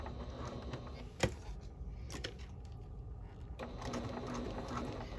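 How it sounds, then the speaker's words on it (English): A sewing machine stitches across the bottom of a fabric bag, a steady low mechanical whir with a couple of brief knocks, faint and close, easing slightly midway before running on. "I fold in the other half and then sew across the bottom"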